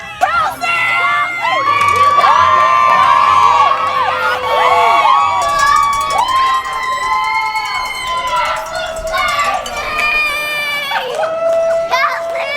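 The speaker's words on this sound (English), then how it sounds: "Some friends from our travels came to cheer me on" Friends and onlookers cheer on an Ironman athlete during the race, a loud mix of excited shouting, high children's voices and whoops that rise and fall over twelve seconds, with overlapping calls close by.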